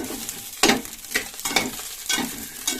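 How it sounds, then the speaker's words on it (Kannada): Brinjal masala fries in oil as it is stirred by hand, with rhythmic scraping strokes about every half second over a continuous close sizzle. No one speaks. "ನೀವು ಈ ರೀತಿ ಕೈ ತಿರುವಾಡ್ಕೋತಾ ಬೇಯಿಸ್ತಾ ಇದ್ರೆ ನೀಟಾಗಿ ಎಲ್ಲ ಕಡೆ ಬೇಯುತ್ತೆ"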